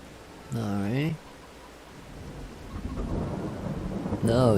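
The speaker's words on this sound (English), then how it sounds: "Went from a gentle rain to thunderstorms." Steady rain and rolling thunder in the video game Farming Simulator 22, the storm rumbling and building in the middle, with a person talking briefly at the start and again at the end.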